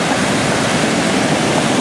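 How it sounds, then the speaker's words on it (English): Water surges in as a wave washes up at the shore, a steady broadband rush of surf close by, loud and unbroken with no voices over it. "Here comes the water."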